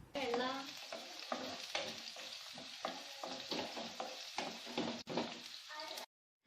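Chopped shallots sautéing in coconut oil in a pan, a dense sizzle broken by repeated rhythmic scraping stirs, close and steady before stopping abruptly.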